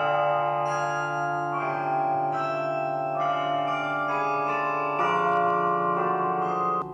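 Carillon bells ring out steadily from a bell tower in Russia, a sustained, layered peal of tuned bells with successive strikes blending into a continuous resonant chord.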